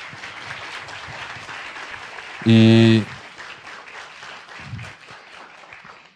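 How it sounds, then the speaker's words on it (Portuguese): Audience applause for a professor at a university energy-efficiency week event, a steady patter of clapping broken midway by a brief loud tonal burst, with a short spoken word near the start. "Uma salva de palmas para ele, por favor"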